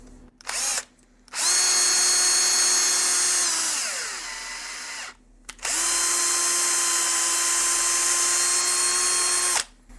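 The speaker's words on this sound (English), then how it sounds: "I can get away with running the tap at 1000 RPM in and out" A power drill drives a tap into PEEK plastic at 1000 RPM, producing two long, loud, close whining runs. The first run's pitch sags and slows toward its end, and a short pause separates the two runs.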